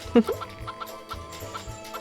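Short clucks from chickens in the video game Harvest Moon 64, a few scattered bursts over a low steady background hum, fairly close and moderately loud.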